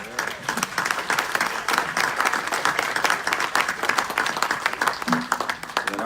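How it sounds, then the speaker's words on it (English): A city council chamber audience applauds young Cub Scouts after they lead the Pledge of Allegiance, a dense, steady round of clapping lasting several seconds at moderate loudness. "can we also give a round of applause to the young Cub Scouts"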